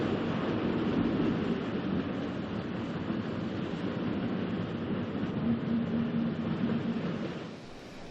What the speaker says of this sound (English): An excursion train, headed by a Hymek Type 3 diesel locomotive, arrives at East Budleigh to pick up returning passengers.